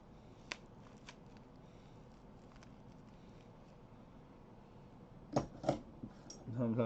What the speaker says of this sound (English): Sometimes you got to put away the knife and pull out the scissors